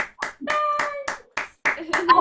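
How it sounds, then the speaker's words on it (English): A few people clap in distinct, uneven bursts, roughly eight or nine claps close to the microphone, with a voice sounding briefly alongside them. "Yeah, sorry, we're clapping now."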